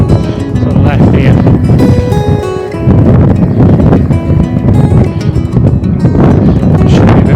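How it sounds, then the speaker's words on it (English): Strong wind buffets the microphone during a fat bike ride along a canal towpath on a rough surface, a steady loud low roar with gusty swells and a brief dip near the middle. "I'm just going to escape from the wind a little bit"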